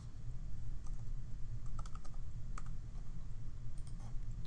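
Quiet computer keyboard typing, a loose run of soft clicking keystrokes arriving in small irregular clusters over a low background hum, with no talking.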